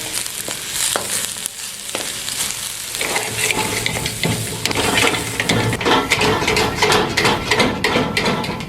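Capsicum, green onion and cabbage stir-frying in a pan for restaurant-style vegetable fried rice: a steady loud sizzle with scraping and clattering strokes of the stirring utensil, growing busier and denser after the first few seconds.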